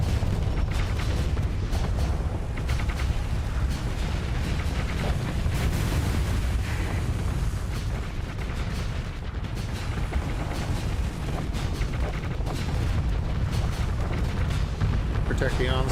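Secondary explosions ripple through a space battle in the video game Starsector, a dense, continuous roar of booms and blasts filling the whole stretch, loud and layered with mechanical rumble.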